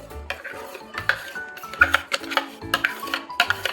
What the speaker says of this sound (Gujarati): ઓકે, હવે આપણે એમાં મિક્સ કરી દઈશું.